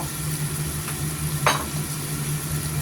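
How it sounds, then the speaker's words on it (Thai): A steady sizzle of stir-frying with sesame oil and soy sauce in a hot pan, close and continuous, with one brief scraping stir standing out midway. "ผัดเลยจ้า ทีนี้ก็ใส่มะเขือที่เราผัดไว้นะคะ"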